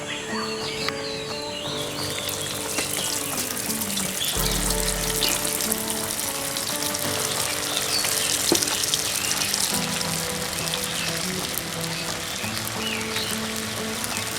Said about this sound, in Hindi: इस समय हमारे तेल अच्छी से हीट हो गया है और हम इस समय इसे डीप फ्राई करने जा रहा हूँ